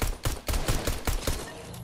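Shotguns fire in a video game: a quick burst of several heavy booming blasts in rapid succession, loud and close, with no talking over them.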